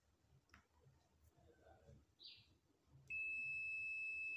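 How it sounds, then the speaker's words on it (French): A digital multimeter in continuity mode gives a steady, loud electronic beep that starts abruptly and holds for over a second after faint handling noises, confirming a good wire. "De ce côté, s'il y a la continuité, ça va me faire un bip sonore."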